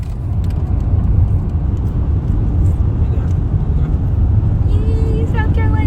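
A car drives along a road, heard from inside the cabin: a steady low rumble of road and engine noise that runs throughout, with a brief higher tonal sound near the end.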